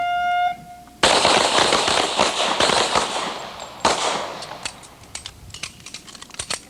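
Police cadets at a State Police academy shooting range fire handguns, sharp close reports arriving in quick irregular bursts after a brief tone, with further shots fading into scattered pops.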